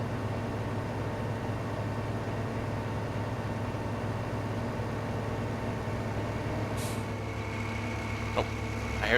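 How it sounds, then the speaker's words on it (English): A tractor approaching in Farming Simulator 15, heard as a steady low engine drone at moderate level with a faint whine, running continuously with a brief high hiss near the end. "I hear the tractor coming."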